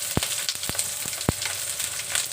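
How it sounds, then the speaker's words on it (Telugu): Onion and slit green chilies frying in a pan, a steady soft sizzle with a few sharp pops and crackles scattered through the short stretch, no talking. "తర్వాత ఆనియన్, 2-3 పచ్చిమిర్చి చీలికలు వేసుకుంటున్నాను."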